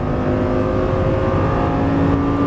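A Lamborghini Gallardo LP550 on a race track holds a loud, steady engine drone with a strong humming tone as it accelerates, close and continuous with no talk.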